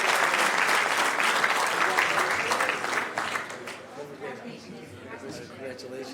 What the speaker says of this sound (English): you got to give Alex another round of applause